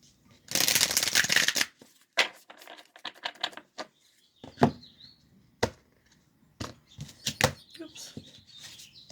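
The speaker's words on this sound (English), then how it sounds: "we'll give it one more split and shuffle" A deck of oracle cards is shuffled and split. A dense riffling burst is followed by scattered snaps, taps and soft card clicks at close range, with faint speech in between.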